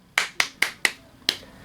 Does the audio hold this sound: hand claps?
yes